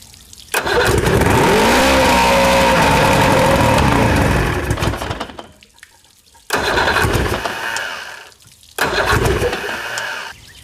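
A 1986 boat motor from a Bass Cat boat, starved of fuel, roars loudly up close and then cuts out and sputters back to life twice, running in uneven bursts between short silences.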